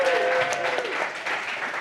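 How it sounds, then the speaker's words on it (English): Steady clapping from a crowd, dense and continuous, with a faint voice briefly audible near the start. "another round of applause for Ahoya."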